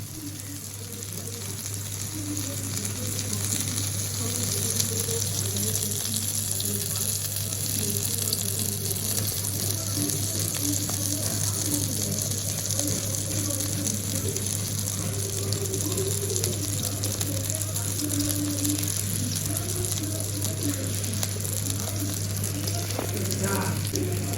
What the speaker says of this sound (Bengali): লইটা মাছটা আজকে আমি ভাজি করব আর তার সাথে হচ্ছে বাটা মাছ ভাজি করতেছি